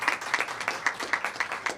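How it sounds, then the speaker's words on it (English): An audience applauding at a public flu-shot event, a brief burst of rhythmic hand claps, fairly close and moderate in level, with no one speaking over it. "Please give him a round of applause"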